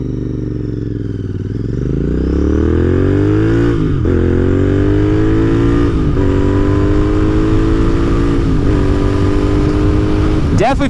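A Royal Enfield race-build motorcycle on a new exhaust pipe revs up from idle into a loud, steady, rasping drone with brief throttle blips. The sound is close and strong, with faint talk beneath it.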